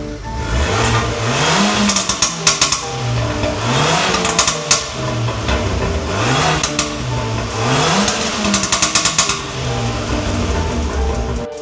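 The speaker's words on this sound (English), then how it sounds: "We've benched the ECU, put a stage on there with a couple crackles. Take a listen to it." An Abarth 595 hot hatch with a staged, tuned ECU revs repeatedly in rising and falling sweeps, loud and close, with sharp crackles and pops from the exhaust on each lift-off.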